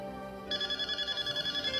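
A cellphone rings with a repeating electronic tone in steady pulses, clear and fairly close, with faint background sound and no one speaking.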